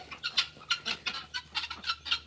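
Backyard chickens cluck in quick, uneven bursts, several birds close by at modest volume, with no speech over them.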